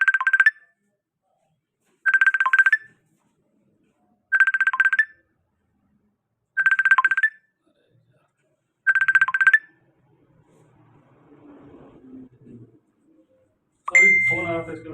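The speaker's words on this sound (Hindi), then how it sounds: "फोन आ रहा था" A phone ringtone plays five identical bright electronic bursts at regular two-second intervals, then falls silent, followed by faint rustling and a brief voice.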